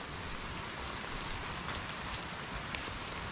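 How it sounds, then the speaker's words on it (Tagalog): Heavy rain pours down in a dense, continuous hiss, with scattered louder drops pattering on a nearby surface. "kapag umuulan bumubuhos ang langit"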